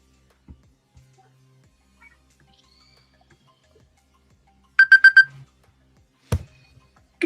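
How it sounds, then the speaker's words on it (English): An electronic alarm goes off during live stock market trading, a short run of four quick, bright, evenly spaced beeps in a quiet room, followed by a single sharp knock. "Freaking alarms."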